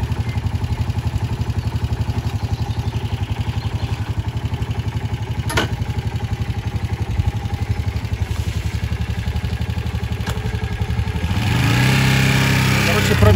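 A motorcycle with 36,040 km on it, newly revived after a year off, drones steadily on a short test ride, its engine close and even before swelling louder near the end.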